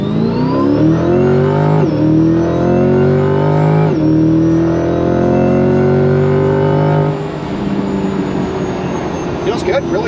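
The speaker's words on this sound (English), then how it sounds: "So now we're going to give her a full throttle test." A Lingenfelter Magnuson supercharged C8 Corvette accelerates at full throttle in drive, its engine roaring loud and close with rising whine through quick upshifts at about two and four seconds, then easing off near the end.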